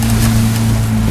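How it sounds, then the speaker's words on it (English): A boat heads through rough waves toward a pier head, with a loud, continuous low engine drone and rushing water and wind washing over the top. "So we're going to ride these waves and try and make it."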